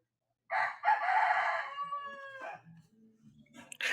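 A rooster crows once nearby at a cockfighting match in the Philippines, a loud drawn-out cock-a-doodle-doo lasting about two seconds, followed by quieter clucking and faint background noise.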